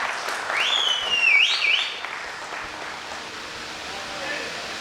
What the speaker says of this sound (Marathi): एकदा जोरदार टाळ्या होऊ द्या